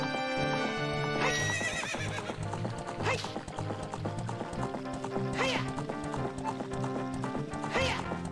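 Horse neighing and galloping hooves in the game Zelda: Ocarina of Time, a whinny rising over steady clip-clop footfalls with layered game music throughout, a couple more whinnies recurring later.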